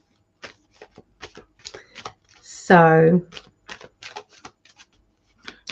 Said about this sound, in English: I'm going to give them a good shuffle